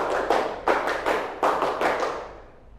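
Rhythmic claps and taps from a group hand-clapping game in a classroom, several sharp bursts in a steady pattern, fairly close and loud, fading out at the end.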